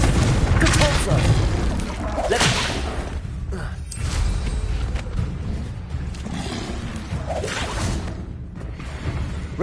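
Confringo spell blasts in the video game Hogwarts Legacy: loud booming bursts with shattering, whooshing edges erupt in several waves, close and forceful, while a voice talks underneath.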